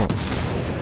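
Cannon fire in the video game Battlefield Bad Company 2, a dense, heavy booming blast that fills a brief moment of game noise.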